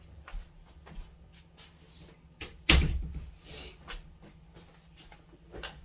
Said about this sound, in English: Let me go and close my door.